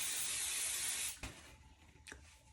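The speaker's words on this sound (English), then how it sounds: "we're actually gonna spray this too." A steady aerosol spray hisses loudly onto a cake pan for about a second, then stops, followed by a couple of short spray bursts.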